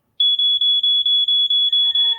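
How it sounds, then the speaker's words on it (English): Smoke alarm beeps in a rapid, steady series of loud, piercing electronic pulses, about nine in a row, sounding alone with no other noise. "That's the sound of the smoke alarm."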